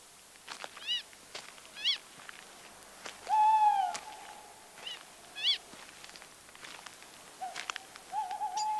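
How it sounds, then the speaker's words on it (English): A tawny owl hoots at night in a palace garden, with quavering, wavering calls and short sharp cries spaced out over several seconds, fairly faint against a quiet background. "This night it is a tawny owl, hunting."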